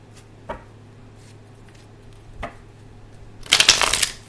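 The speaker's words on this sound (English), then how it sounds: "let's go ahead and shuffle" A few soft riffles of tarot cards, then a brisk, crisp shuffle burst near the end; quiet and close.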